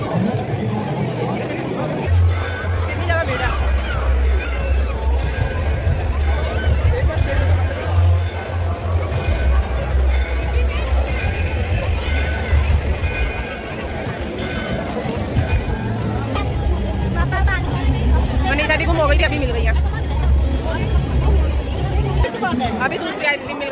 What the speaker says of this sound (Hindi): इतनी ज़्यादा भीड़ है